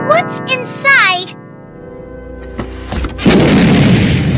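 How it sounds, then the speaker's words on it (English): A bomb explosion in a comedic TV sketch arrives as a loud, broad rushing boom that sustains to the end, following a warbling, sing-song voice. "Oh, Wendy, you got exploded by a bomb again."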